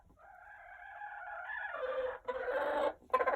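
Hen in a coop giving a drawn-out, rising vocal call that breaks into short, loud squawking bursts, close by and alone.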